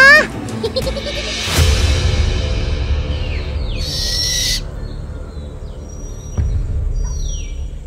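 An owl hoots clearly and fairly loudly in a children's wildlife show, with other noises and sound effects layered around the calls.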